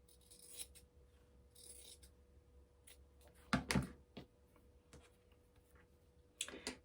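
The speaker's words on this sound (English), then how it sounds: "I'm just going to trim these last 2." Scissors make a few faint snips while trimming the last fabric triangle pieces for a quilted cushion. The cuts are scattered and quiet against a calm room, with no talking.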